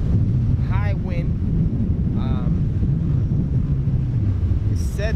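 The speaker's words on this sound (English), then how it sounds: "but it's pretty high wind." High wind buffets the microphone outdoors during a test flight of a DJI Phantom Pro drone, a loud, steady low rumble filling the whole stretch, with a few faint brief tonal chirps on top.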